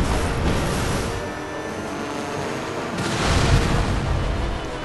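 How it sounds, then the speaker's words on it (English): A helicopter blows up in the video game Alone in the Dark, a loud, sustained rumbling blast that swells again toward the end, with no talking over it. "Whoa, helicopter explosion."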